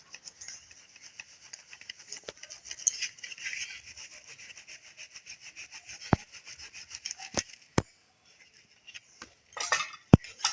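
Flour is shaken through a sieve: a steady, soft scratchy rubbing with light metallic taps from the mesh and rim, close and quiet, ending with a few sharper knocks.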